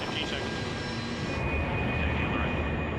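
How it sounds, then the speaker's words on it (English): C-5 Galaxy turbofan engines revving while the aircraft stands still with brakes on, a loud continuous jet roar with a thin steady whine riding on top, building slightly in intensity. "the pilots rev the engines while standing still"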